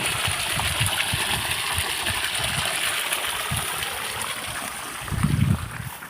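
An electric water pump motor runs on a Kerala paddy farm while water gushes from its pipe: a constant mechanical hum under rushing water, with a brief louder low surge near the end.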